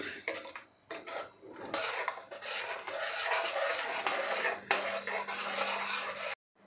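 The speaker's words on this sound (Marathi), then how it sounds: "पण यामध्ये आपल्याला सतत हलवत मिक्स करून घ्यायचं आहे आणि मोठी उकळी काढायची आहे" A spoon stirs a thick tamarind and jaggery chutney in a pan as it boils. The rasping scrape against the metal repeats steadily, close and fairly quiet, then stops abruptly.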